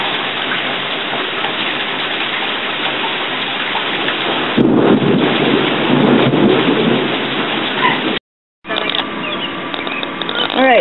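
Heavy rain pours steadily while deep thunder rumbles and swells through a lightning storm during the 2013 Cedar Rapids, Iowa flood, with a brief dropout near the end.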